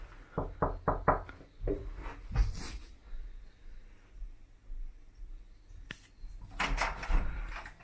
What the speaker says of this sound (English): If I knock politely.